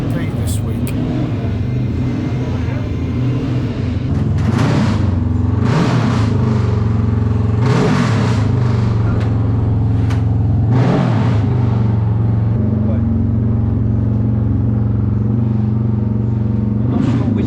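Classic racing motorcycles pass one after another at the Manx Grand Prix, with a steady low engine rumble punctuated by several loud, sharp fly-by surges, and voices talking throughout.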